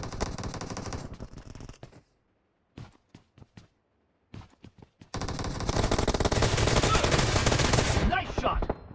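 Groza assault rifle fired without a silencer in PUBG Mobile: a sustained loud automatic burst, then a short gap of scattered quieter clicks and shots, followed by another long dense burst of rapid fire that fades at the end.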